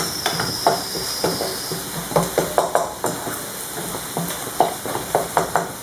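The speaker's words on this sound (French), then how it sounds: "J'essaie de taper comme ça, ou bien d'écraser l'ail avec de la spatule en bois, ma cuillère en bois." A wooden spatula crushes garlic in a hot cooking pan for Moroccan grilled aubergine salad, giving repeated soft tapping thuds in an uneven rhythm over a constant sizzle and hiss.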